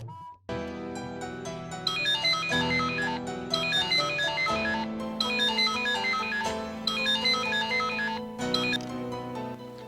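A phone ringtone plays a melodic electronic tune for an incoming call, repeating in bright looping phrases for about ten seconds, loud and close with no talking over it.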